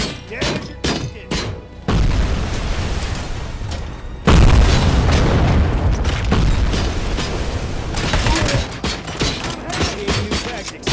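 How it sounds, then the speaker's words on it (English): Grenade blast in the RoboCop: Rogue City game: a loud, heavy boom hits at about four seconds, followed by a sustained rumbling roar and further crackling impacts, with an earlier thud near two seconds and scattered sharp combat noises. "Grenade!"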